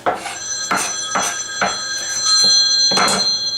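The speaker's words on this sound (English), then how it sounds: "Oh, you know what? My phone's ringing." A telephone rings in a home kitchen during tartar sauce preparation, with red onion being added; repeated electronic ring bursts come in a steady rhythm, close and clear, with no talking over them.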